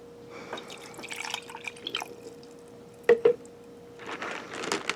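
Water dripping and splashing into a rock tumbler barrel, close and fairly quiet, with scattered drips, a pair of sharp plinks midway, then a busier trickle toward the end.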